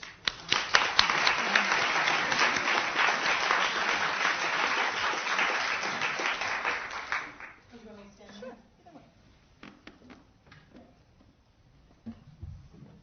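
An audience at a women in ministry panel breaks into warm applause, a loud, sustained crowd clapping for about seven seconds before fading, followed by a speaker beginning to talk.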